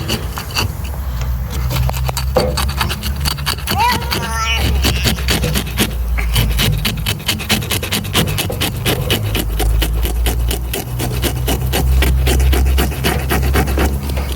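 A knife or scaler scraping scales off a steelhead salmon, steady close rasping strokes that repeat continuously over a low background rumble.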